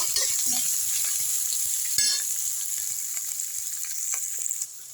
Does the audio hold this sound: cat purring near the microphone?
no